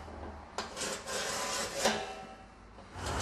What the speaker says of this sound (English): the reason I'm doing the chiselling, that releases tension of the hammering